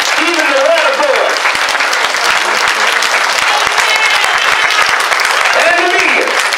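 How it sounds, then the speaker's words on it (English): Sustained audience applause filling a community meeting hall about the Flint water crisis, steady and loud throughout, with a few voices rising over the clapping near the start and end. "You ought to clap your hands for every leader."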